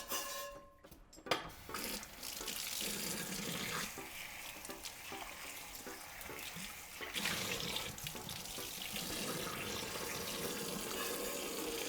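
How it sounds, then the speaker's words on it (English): Tap water runs steadily as a cast iron skillet is rinsed in a sink, a continuous hiss and splash with occasional clinks of the pan, close and fairly quiet. "I'm just gonna rinse it out one more time."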